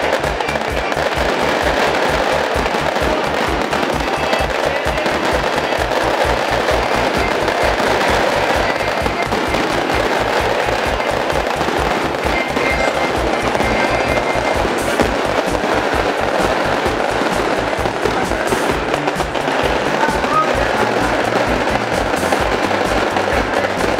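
A loud, continuous barrage of fireworks bursts at midnight for a football club's 96th anniversary celebration in São Paulo state, rapid crackling pops and bangs rattling on without pause throughout.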